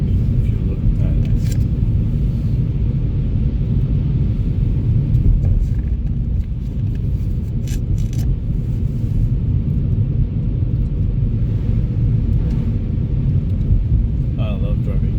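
A car driving on a snowy road in Terrebonne, heard as a steady low interior rumble throughout, with faint small clicks now and then.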